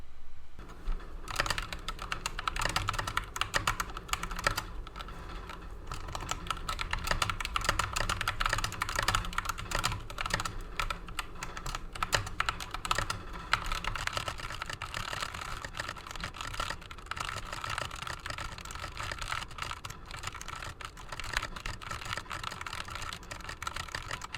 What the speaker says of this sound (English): let's go ahead and do a typing test to ensure that I haven't lost any typing speed